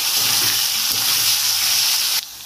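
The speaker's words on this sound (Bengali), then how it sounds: "ভালো করে নেড়ে চেড়ে আগে সবজিগুলো সব ভেজে নেবো ভালো করে।" Carrots, beans and cauliflower stir-fried in hot oil for egg chowmein, a loud continuous hissing sizzle that cuts off sharply near the end.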